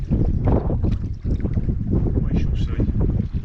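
Gusty wind buffets a small fishing boat on open water during pike and perch fishing, a loud, continuous rushing and flapping roar close to the microphone with no pause.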